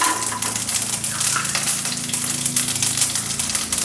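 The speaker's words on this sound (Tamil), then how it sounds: "கடுகு வெடிக்கிறது, உளுத்தம்பருப்பு சிவக்கிறது இல்லையா" Mustard seeds spluttering and crackling in hot oil with urad dal, a close, loud, continuous sizzle dotted with sharp popping bursts, no talk over it.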